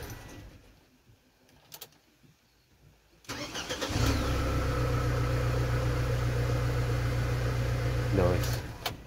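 A Ford Transit Connect van engine cranks and starts after a quiet pause, then settles into a steady, close idle with a low droning hum and a brief rise near the end.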